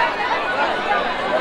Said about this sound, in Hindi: ये देखो काफ़ी भीड़ लगे हैं शीतला मैया के मंदिर के अंदर